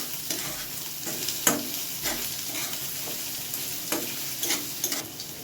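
Onion, curry leaves and chopped mild green chillies sauté in a pan with a steady close sizzle, broken by repeated scraping stirs of a spoon against the pan; no one speaks.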